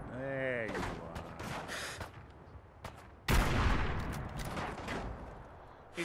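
A scatter gun fires in Fallout 4 with a sudden loud blast partway through, followed by a rough, decaying burst of shot, with scattered sharper cracks and clatter before and after.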